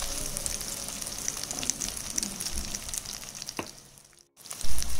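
Potatoes, some with skins on and some peeled, go into onions frying in a pan for a Bengali prawn and Malabar spinach chochchori. There is a steady close sizzle with a few knocks, a sudden brief gap, then a louder rush of frying.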